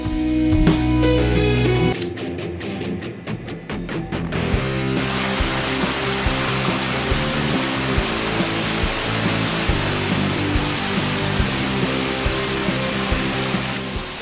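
A steady, loud roar of water falling from a tall waterfall, Suangga waterfall in Bulusaraung, Indonesia, pours on continuously, following a few seconds of other tonal sounds at the start.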